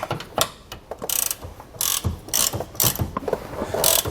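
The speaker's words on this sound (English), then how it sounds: "Or if you have a set of ratcheting tools, those also work very well." Ratchet wrench loosening a bolt on the Torflex axle of a 2018 Forest River Rockwood Mini Lite trailer, giving repeated bursts of quick close clicking, several separate strokes with short pauses between, no talking.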